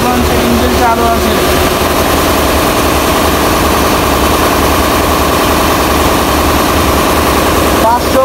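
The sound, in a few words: passenger launch boat engine running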